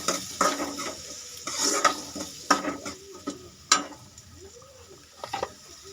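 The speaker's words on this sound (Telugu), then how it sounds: "ఇప్పుడు అదే ఆయిల్లో మనం కట్ చేసుకున్న ఆనియన్స్ వేసి బాగా ఫ్రై చేసుకోవాలి" Cut onions fry in oil in a pan with a soft sizzle, broken by repeated clinks and scrapes of a spoon stirring against the pan. Close and quiet, with no talking.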